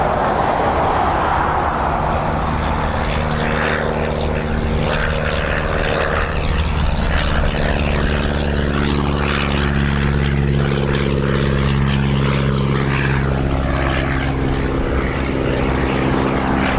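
A de Havilland Chipmunk propeller aircraft flies near RAF Coningsby, its engine a steady, droning hum with clear harmonic tones that shift slowly as it passes, loud and continuous with no voices.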